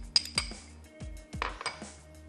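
A utensil clinks and scrapes against a bowl while a yogurt, ginger and garlic paste marinade for mutton is mixed, giving several sharp, close taps and scrapes at an irregular pace with no talking.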